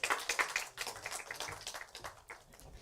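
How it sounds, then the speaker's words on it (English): Audience applause at an India Pavilion panel session during Expo 2020 Dubai, welcoming a chef onto the stage: a dense patter of many clapping hands, steady and fairly loud, tapering slightly toward the end. "Let's give him a round of applause."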